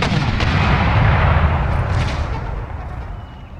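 Howitzer artillery fire in Empire Total War, a loud, dense boom with a broad rumbling roar that slowly decays over a few seconds, close and without voices.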